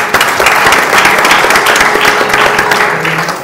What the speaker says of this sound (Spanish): para quien pido un aplauso esta mañana